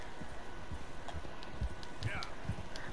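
Horse hooves clip-clop in the Red Dead video game, a faint steady run of soft hoofbeats over a low background bed, fairly quiet and distant.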